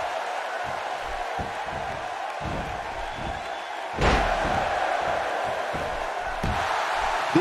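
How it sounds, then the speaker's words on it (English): A large arena crowd in the video game WWE 2K16 roars steadily during an Undertaker versus Big Show match, with thuds and impacts punctuating the din and a sudden surge of cheering midway. "by the sound of this crowd, I think they're getting what they wanted"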